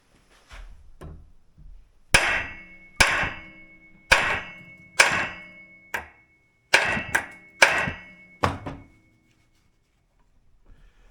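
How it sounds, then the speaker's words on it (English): Hammer whacking a part loose on a hovercraft motor, about eight sharp metallic strikes spaced roughly a second apart after a few lighter taps, close and loud with no talk. "Just took this hammer here to do it. One whack, and then it came."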